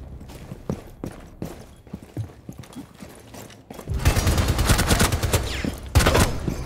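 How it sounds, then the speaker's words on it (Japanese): A weapon is reloaded in Tom Clancy's Rainbow Six Siege. Sparse mechanical clicks and light taps come first, then a sudden loud burst of rapid gunfire takes over for the last few seconds. "リロードする。"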